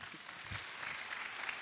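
A church congregation applauds and cheers the Lord in a steady, moderately distant wash of clapping that lasts the whole short moment.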